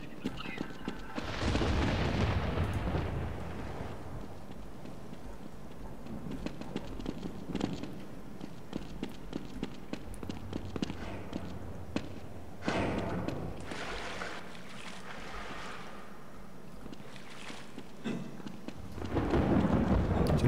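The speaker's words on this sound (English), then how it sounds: "Do you notice the lightning that strikes?" Thunder from lightning strikes in the Half-Life Deathmatch video game: long, loud rumbling booms that swell and fade in waves over about twenty seconds, with a few sharper cracks within the roar.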